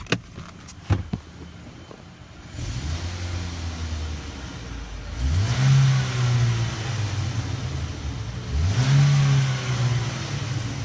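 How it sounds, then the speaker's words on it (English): A few clicks, then the engine of a 2010 Chevrolet Equinox LT SUV starts and idles, revving up twice with rising whines before settling back, close and without talk. "Let's go ahead and listen to the engine."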